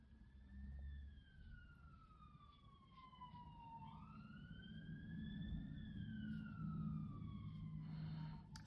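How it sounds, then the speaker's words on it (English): Emergency vehicle siren wailing in the background on a late afternoon in Eastbourne, rising and falling steadily through the whole stretch, moderately loud over low traffic rumble. "Sorry if you can hear the siren in the background."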